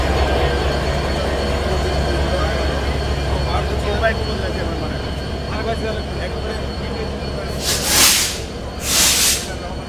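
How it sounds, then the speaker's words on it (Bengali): A diesel locomotive shunting at a railway station on the Banglabandha Express route gives a steady, low engine drone, with two sharp hissing bursts near the end. "আমাদের লোকোমোটিভ শান্টিংয়ের কাজ প্রায় শেষ"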